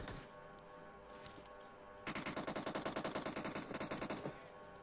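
Automatic rifle fire in the mobile battle-royale game PUBG Mobile: a loud, rapid burst of evenly spaced shots lasting over two seconds, following quieter distant pops, with no voices.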